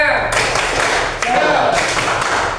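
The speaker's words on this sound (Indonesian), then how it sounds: "1, 2, 3. Tepuk semangat." A group claps a rhythmic spirit clap in unison, a close, loud burst of hand claps with a couple of sharp accents across the short stretch.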